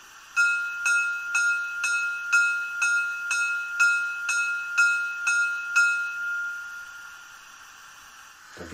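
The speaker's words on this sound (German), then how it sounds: "Eine Glocke." A bright mechanical bell from a brass Gauge 1 model BR 81 steam locomotive rings in a steady rhythm, about a dozen evenly spaced strikes, then stops and leaves a faint hiss fading out.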